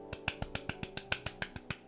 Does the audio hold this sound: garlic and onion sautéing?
no